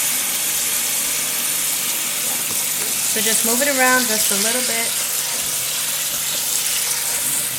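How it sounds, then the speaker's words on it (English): Cold water streams from a kitchen tap over cooked macaroni in a colander, a steady hiss running throughout while a person talks over it midway. "So running the cold water on it will stop all that from happening."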